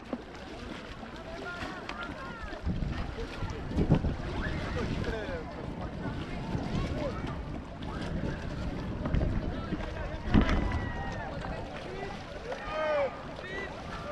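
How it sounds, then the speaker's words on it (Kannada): A river rafting boat is paddled through moving water, with splashing strokes and rushing current under steady wind buffeting the microphone, and voices of the rafters mixed in. "ಸಫಾರಿ ನಂತರ ನಾವು ಬಂದಿದ್ದು ರಿವರ್ ರಾಫ್ಟಿಂಗ್ ಮಾಡೋಕ್ಕೆ"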